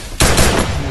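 Gunfire in the video game Free Fire: a loud sudden burst of rapid shots that bursts in and rings on for under a second.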